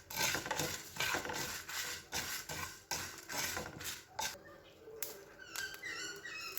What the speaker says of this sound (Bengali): দিয়ে মিশিয়ে নিয়ে খানিকক্ষণ এবার ভাজতে থাকবো